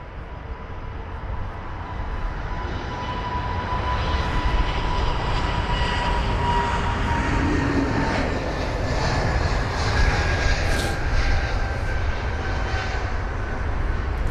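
A British Airways Airbus A320neo departs London Heathrow, its jet engines roaring in a broad, sustained rumble that slowly swells in loudness, with a faint whine on top and no speech.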